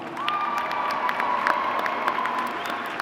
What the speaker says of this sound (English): Give yourselves a round of applause.